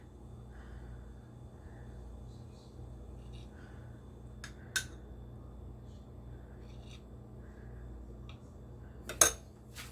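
Dishes and cutlery clink softly while alcapurrias and empanadas de yuca are plated, a few scattered light taps and two sharper knocks over a quiet room hum.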